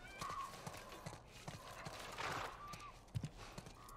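Horse hooves clip-clop in The Last of Us video game, light rhythmic steps with a brief neigh, fairly faint against a background ambience.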